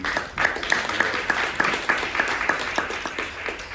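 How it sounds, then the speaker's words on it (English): A round of applause from the audience at a citywide community gathering on reparations in New York, with steady, dense clapping and sharp individual claps running the full length at moderate volume. "Give him a round of applause"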